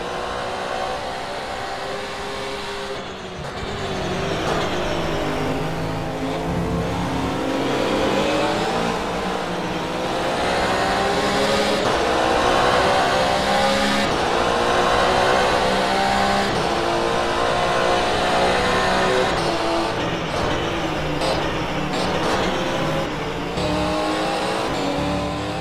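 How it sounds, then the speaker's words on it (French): Onboard a Porsche GT race car in a GTE Series round at Montréal, the engine roars loud and continuous, revving up through gears with brief drops at shifts, with tire and wind noise beneath. "On profite un petit peu du son de la voiture en caméra embarquée."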